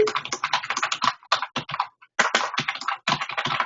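Quick, uneven clatter of keys on a computer keyboard, close and crisp, in short bursts with brief pauses and no talk.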